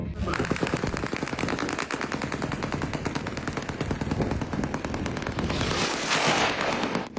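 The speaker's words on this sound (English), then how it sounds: "It flew past, they're shooting!" Air defense guns fire over Moscow in long rapid bursts, dense rattling gunfire that continues without pause across the whole stretch, loud and somewhat distant.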